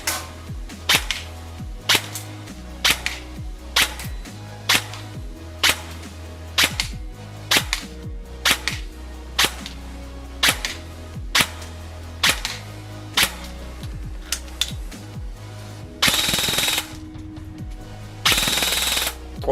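Ama Tsu Maru HK416 ambidextrous airsoft AEG firing in a shooting test, sharp rapid bursts and single shots with short pauses between, then two longer sustained full-auto strings near the end, loud and close with no talk.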